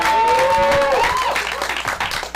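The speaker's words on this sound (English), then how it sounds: "let's start clapping right now." Live stand-up comedy audience applauding and cheering as a comedian is introduced, a loud sustained burst of clapping that fills the room with no speech over it.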